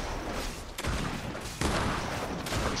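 Rapid, dense gunfire from a turret in the Fortnite video game, a loud continuous barrage that surges at two points. No talking.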